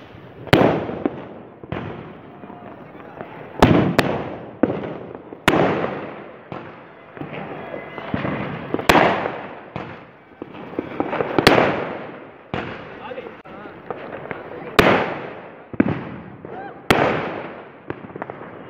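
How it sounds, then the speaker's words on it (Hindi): Diwali fireworks and firecrackers burst over Kanpur in a string of loud, sharp bangs at irregular intervals, some near and some farther off, with voices faintly audible underneath. "आज तो आसमान रंगा हुआ। ये देखिए कानपुर की आतिशबाजी।"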